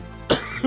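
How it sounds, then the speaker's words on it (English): A single harsh cough bursts out close to the mic, followed by a short rough throat sound. "this cough is something vicious"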